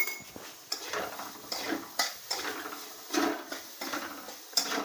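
Garam masala and chili powder being stirred and sautéed in a pan for a soybean dish, a close, rhythmic series of metal spatula scrapes and clanks against the pan, with no talking.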